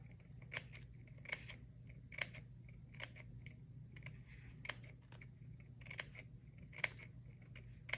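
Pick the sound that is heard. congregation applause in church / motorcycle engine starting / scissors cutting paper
scissors cutting paper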